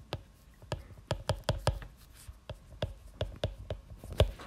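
Chalk or marker tapping and scraping on a board during a physics lecture on waves, a run of sharp irregular knocks and strokes with brief pauses, close and moderately loud with no talk.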